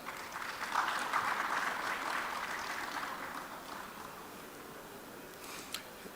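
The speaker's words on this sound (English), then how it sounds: "So let's clap for ourselves." Audience at a gaming expo in Africa claps together, a dense wash of applause that swells early, then gradually thins and fades, with a brief sharp sound near the end.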